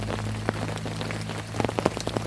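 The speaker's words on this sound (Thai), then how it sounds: "ฝนก็ตกมา ตั้งแต่ เมื่อวานนะจนถึงตอนเช้านี้ก็ยังไม่หยุดนะครับ" Heavy rain pours steadily through a forest after falling all night, a dense continuous hiss with scattered close drips and patters landing on nearby surfaces; no voices.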